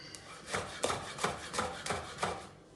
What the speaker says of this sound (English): Just julienne that up.